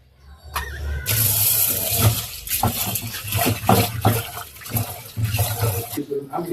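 Lentils are rinsed in water in a home kitchen while cooking for guests: steady splashing and swishing of water for several seconds, with light clinks, fairly close.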